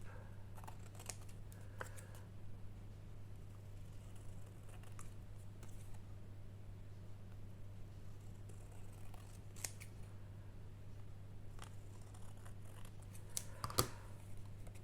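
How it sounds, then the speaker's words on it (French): Scissors snip out paper embellishments for stamped craft work, giving a series of faint, sparse clicks and short cuts over a steady low hum in a quiet room. "on reprend nos ciseaux et on découpe"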